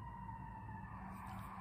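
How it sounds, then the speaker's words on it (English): An alarm and a siren sound in the background, a steady tonal wail held throughout over a low rumbling hum, moderately distant and without talk. "Just like you hear that alarm and the siren in the background"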